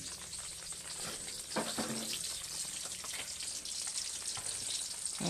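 Food frying in a pan for a sinigang with okra and tangkong, a continuous close sizzle with occasional spits and a brief louder surge partway through, alongside a watery hiss.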